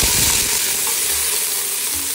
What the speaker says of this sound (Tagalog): So, lagay na tayo ng mantika. Luya muna. Lagay na natin din yung sibuyas.